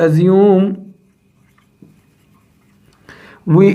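A solution is written out during a Frobenius method maths lesson, with faint scratchy strokes in a quiet pause between stretches of someone talking.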